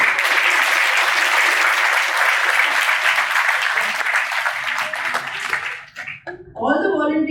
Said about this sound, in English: So we should applaud to our volunteers for their exemplary work.